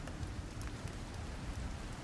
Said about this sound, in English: It's raining. It's like Sleeting.